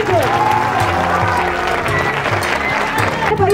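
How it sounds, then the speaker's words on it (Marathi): An audience at a film screening claps steadily to welcome guests, and the applause stays dense and sustained throughout, mixed with crowd noise and some tonal sound in the background. "टाळ्यांच्या गजरात टाळ्या थांबल्या नाही पाहिजे."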